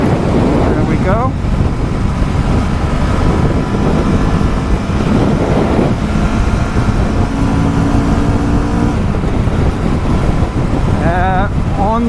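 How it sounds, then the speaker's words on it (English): Loud, continuous wind roar buffeting the microphone of a 2023 Kawasaki Vulcan S naked motorcycle at freeway speed, a low steady drone running beneath the rushing air throughout. "there's quite a lot of wind since it's a naked bike naturally"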